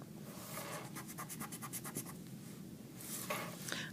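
A quick, rhythmic scrubbing of an eraser rubbing out pencil writing on paper, a run of short close strokes followed by a brief pause and a few more rubs.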